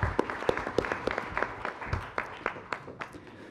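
Scattered applause from a seminar audience greeting a professor introduced as a presenter at a policy forum, with sparse, uneven claps at moderate distance fading and thinning over a few seconds.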